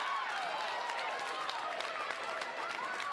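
A rowdy crowd cheers and claps in a gym at a high school volleyball match, a steady roar of voices and applause with scattered shouts, heard at some distance.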